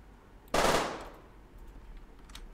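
A single sharp burst of gunfire from an indie zombie shooter game cracks out loudly and decays over about half a second, then faint quiet game ambience follows.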